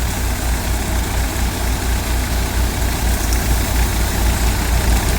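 A New Holland 3600 tractor drives a Shaktiman thresher through mustard crop. The steady diesel throb and threshing drone run continuously at close range, loud and even, with no voices.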